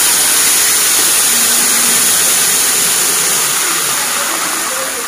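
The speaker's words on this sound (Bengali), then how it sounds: "তো বন্ধুরা এবার এর মধ্যে খুব সামান্য জল দিলাম" A little water hits hot oil in a pan while a Bengali fish curry cooks, giving a loud, close, broad sizzling hiss. It holds steady, then eases slightly toward the end.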